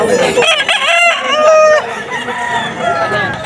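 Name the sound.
rooster crowing at cockfighting rooster sale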